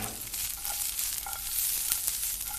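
Onion and carrot fry in a hot pan, giving a steady, close sizzle with soft crackles and a few faint stirring clinks throughout.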